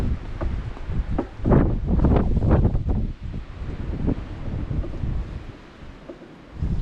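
Gusting wind during a heavy snow storm buffets the microphone with loud, uneven roaring bursts that swell and fade over several seconds.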